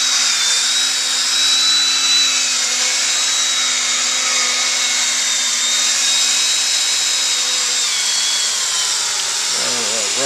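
A cordless drill with a polishing pad runs continuously against a plastic car headlight lens, a loud, steady high whine with a slight pitch sag as the battery weakens near the end.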